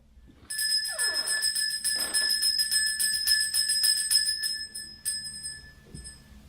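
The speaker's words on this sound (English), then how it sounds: "Listen to the sound of this bell." A bell rings on an outdoor porch in the Appalachians at night, its bright sustained tones repeating steadily for several seconds, fairly close and with no voices over it.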